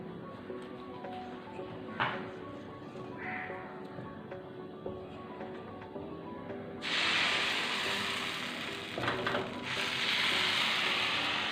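Appam batter hitting a hot, lightly oiled appam pan, a steady low kitchen hum suddenly giving way to a loud, bright hissing sizzle that carries on to the end.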